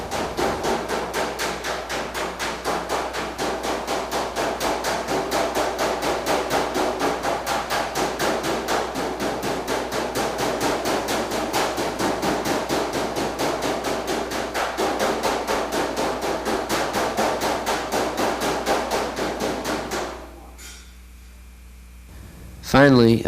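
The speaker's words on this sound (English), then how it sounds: "A rawhide mallet against the dolly will additionally cold shrink and hand plenish the" A rawhide mallet pounds sheet metal against a dolly to cold shrink it, striking in a fast, steady, loud run of blows for about twenty seconds before stopping.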